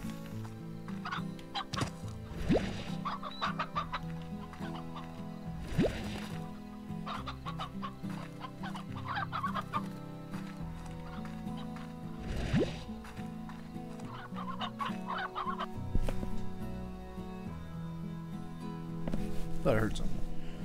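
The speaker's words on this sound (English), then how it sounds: "A hen whose egg laying days are over." Hens cluck repeatedly in the Slime Rancher video game, the short clucks scattered across a busy, steady bed of game music and ambience, with a voice present at times.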